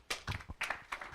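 Short burst of applause for a speaker at a health tech venture capital panel, a few sharp claps in quick uneven rhythm, close and fairly quiet, fading after about a second.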